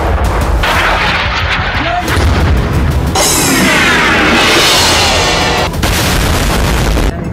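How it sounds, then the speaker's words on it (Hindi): Heavy bombardment in Lebanon during the war produces a dense barrage of loud, close explosions and booming artillery blasts, with a rolling, rumbling roar that continues almost without pause throughout. "लेबनान में भीषण बमबारी जारी है।"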